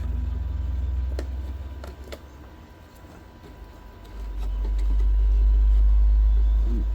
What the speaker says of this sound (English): Big old truck going by.